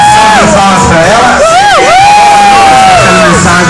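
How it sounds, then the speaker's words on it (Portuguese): A lively crowd cheers, whoops and shouts at a birthday celebration, loud and close throughout, with voices and sung-like yells rising over a dense wash of excited noise. "Palmas pra ela."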